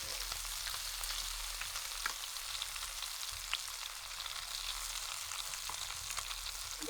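Chicken pieces for iffa chicken fry steadily in a pan at home, with a continuous close crackling sizzle and scattered sharper pops throughout.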